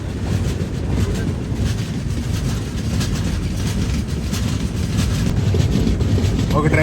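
Swarnajayanthi Superfast Express running between Bhopal and Bina, a loud steady rumble of wheels and carriage with wind buffeting the microphone, continuous and close.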